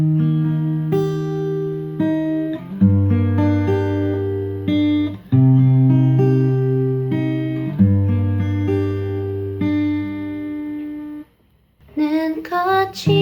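A guitar picks out the plucked chorus pattern of a song in a steady, fairly fast rhythm of clear repeated notes, played alone with a brief pause before a final flurry.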